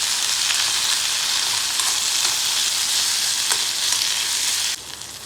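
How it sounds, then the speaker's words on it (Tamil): Ivy gourd chutney ingredients sauté in a hot pan, a steady dense sizzle with faint scrape ticks, close and loud throughout, cutting quieter just before the end. "இப்போ இது எல்லாத்தையும் நல்லா வதக்கிடலாம்."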